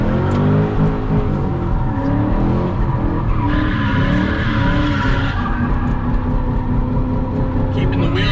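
A car's engine revs hard while its wheels spin and the tyres squeal through a drift, a loud, continuous roar with screeching, and a voice talks over it.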